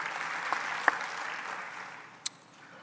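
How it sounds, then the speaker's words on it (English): Steady applause from a crowd, moderately loud and diffuse, with a couple of sharp louder claps standing out, gradually tapering off. "give these people on the dais an applause"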